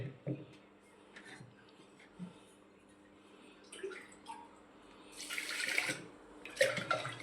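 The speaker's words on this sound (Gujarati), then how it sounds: "જો આ રીતે ચોખા ધોઈ લેવાના" Rice is swished and rinsed with water in a pressure cooker pot, soft sloshing and splashing that turns louder and brighter toward the end, with someone talking intermittently.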